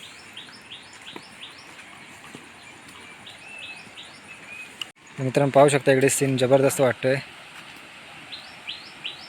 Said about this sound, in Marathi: आणि इकडे पक्षी बोलत आहेत पहा